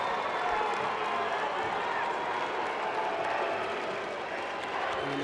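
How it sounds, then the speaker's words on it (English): A handball arena crowd at the 2012 European Championship, Denmark versus Sweden, applauding Danish goalkeeper Landin's penalty save with a steady, sustained roar of clapping and cheering that fills the whole stretch. "Danish keeper takes the plaudits from the crowd"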